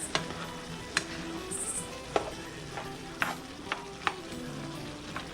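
Ground beef browning in a pan for shepherd's pie is stirred and broken up, with a steady low sizzle and a run of sharp spatula scrapes and clacks, several spaced a second or so apart.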